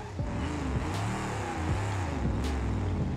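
Car engine in the BeamNG Drive racing game revving under throttle, a loud continuous drone whose pitch swoops up and down in repeated surges, with sharp gear-shift dips and no talk.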